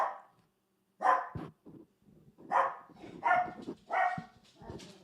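A dog barks outside in a few separate bursts spread across several seconds, moderately loud with short quiet gaps between them, heard alone without any talk.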